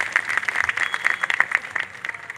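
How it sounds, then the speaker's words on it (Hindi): Audience clapping at a public ceremony unveiling a statue of Rajmata Jijau, a steady dense patter of many hands, fairly loud and continuous with no talking over it. "सबके लिए एक बार ताली बजा दीजिए।"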